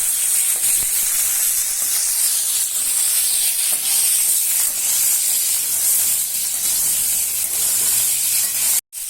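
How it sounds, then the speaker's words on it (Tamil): Eggplant fries in oil in a pan for a spicy kara kuzhambu. A loud, continuous close-up sizzle and hiss holds steady for the whole stretch, with no voices. "கத்திரிக்காய் நல்லா வதங்கட்டும்."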